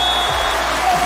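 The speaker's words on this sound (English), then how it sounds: "Oohs and ahs in the crowd." A volleyball arena crowd lets out a loud, sustained murmur of oohs and cheering right after a rally, dense and close.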